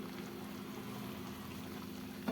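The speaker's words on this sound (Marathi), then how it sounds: "हे बघा आपल्या भाजीला उकळी आली आहे" A steady low bubbling of a pot of fenugreek leaf curry on the boil, continuous and even, with a faint clink near the end.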